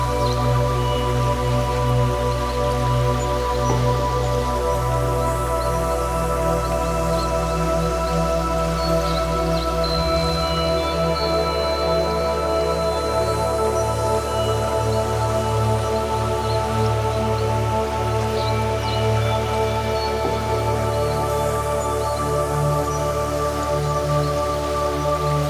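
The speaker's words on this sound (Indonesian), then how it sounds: "Lihat airnya sangat deras." Heavy rushing water in a jungle pours in a steady, loud, dense wash, like a strong torrent, with no voices over it.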